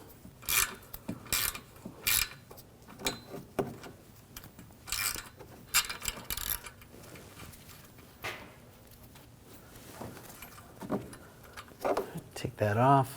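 Metallic ratcheting and wrench clicks as nuts are taken off a transmission bracket on a 2007-2013 BMW 328i, coming in short bursts of clacks with pauses between them, with a voice talking over parts of it.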